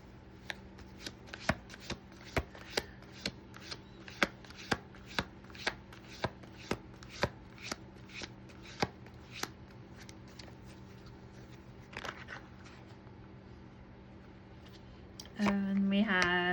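Tarot cards are shuffled by hand, giving a series of sharp, close card snaps and riffles at an irregular rhythm, followed at the end by a brief louder rustle.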